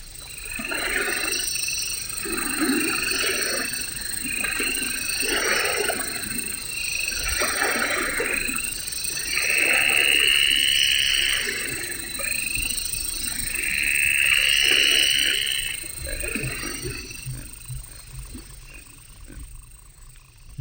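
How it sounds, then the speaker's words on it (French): Frogs croak in a marsh amid a dense chorus of chirping insects, with repeated pulsing calls that swell and fade continuously and no voices. "une grenouille a crié. Quack, quack."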